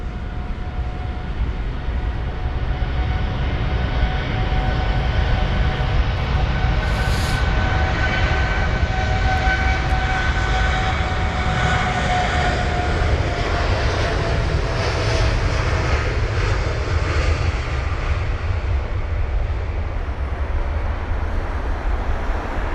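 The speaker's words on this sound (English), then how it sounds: "that's flight number UA39404 for the United Airlines 7879 Dreamliner, heading to Los Angeles" A United Airlines Boeing 787-9 Dreamliner departs Heathrow runway 27R bound for Los Angeles, a loud continuous jet roar with a rising whine that slowly shifts pitch as it climbs away, no voices over it.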